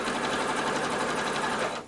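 A sewing machine runs close and steadily, stitching binding onto a quilt in one brief continuous burst of rapid needle rattle before slowing to a stop.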